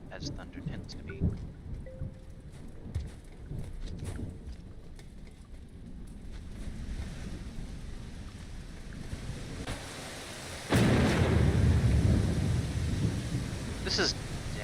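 Storm in the game Rain World: rain hissing steadily with low rumbling thunder that breaks into a loud, close crash near the end and keeps roaring.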